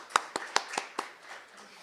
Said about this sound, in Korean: 토론 자장분께 다시 한번 큰 박수 부탁드리겠습니다